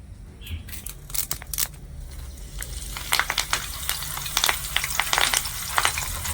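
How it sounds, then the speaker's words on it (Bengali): Curry leaves crackle and sputter in hot oil for spicy homemade chanachur, with irregular sharp pops over a steady low sizzle, close by and fairly quiet. "তো দেখুন এখানে কিন্তু কারি পাতাগুলো কিন্তু খুব সুন্দর করে ভাজা হয়ে গেছে"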